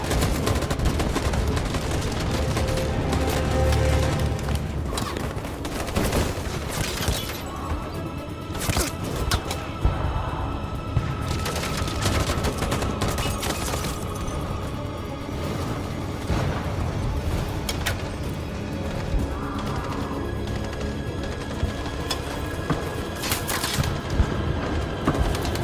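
Gunfire volleys in the game Detroit: Become Human crack out in dense, overlapping bursts, loud and close, with sharp reports repeating throughout over a heavy rumbling bed.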